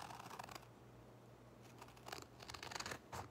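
Scissors snipping through an adhesive stencil sheet for painting wood shelf sitters, a few quiet crisp cuts in two short clusters, close by with no talking.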